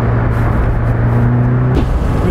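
Lotus Elise sports car engine drones loudly and steadily at close range with a constant low hum, then briefly shifts pitch near the end, with no talk over it.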